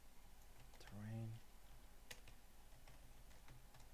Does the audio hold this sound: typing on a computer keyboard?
yes